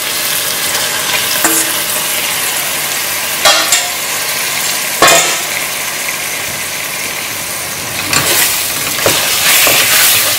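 Meat frying in oil with ginger and garlic in a pan for a Goan-style meat dal, a steady loud sizzle throughout with a few sharper bursts of spatter and scraping, no voices.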